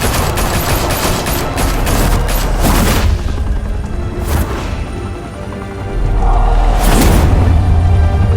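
A volley of gunfire erupts in an animated Batman episode: loud, dense bursts of shots and crashes sweep through the scene, ease briefly, then surge again.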